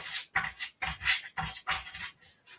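A dog pants at a door in quick, breathy bursts that come in a loose, uneven rhythm, close by but fairly quiet, with no voices over it.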